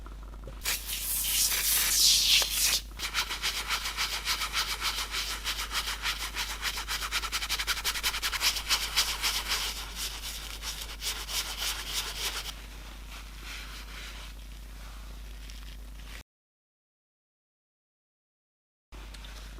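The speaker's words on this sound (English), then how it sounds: "So I'm just going to get cracking with this, keep spraying and scrubbing." Brisk spraying hisses at first, followed by steady rhythmic scrubbing strokes on a vintage canvas Gucci wallet, close up, that fade to a softer rubbing before falling silent.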